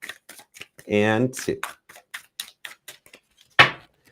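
A tarot card deck is shuffled in quick bursts of light papery clicks and snaps, scattered under and between a person's spoken counting.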